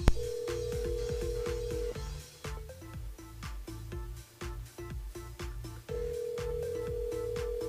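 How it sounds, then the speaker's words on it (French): A telephone line rings on a radio call-in show, repeated electronic ring tones pulsing at a steady rhythm over faint clicking background, fairly quiet overall. "On a des sonneries"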